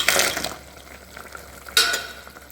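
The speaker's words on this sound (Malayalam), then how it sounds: "നമ്മൾ അതിലേക്ക് വറുത്ത് വെച്ച കൊണ്ടാട്ടം മുളക് ഇടുന്നുണ്ട്" Fried kondattam chillies going into a sizzling curry in a pan, a loud burst of frying hiss at the start that fades to a low simmer, then a second sharp sizzle flare near the end.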